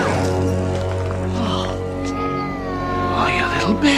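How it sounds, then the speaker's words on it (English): A cat meows in drawn-out, wavering calls over a steady low hum, loud and close, with the meows rising in pitch near the end. "You're a stupid cat, aren't you?"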